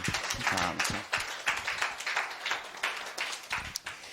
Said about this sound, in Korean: 우리 하나님께 우리 박수로 한번 영광을 돌리겠습니다.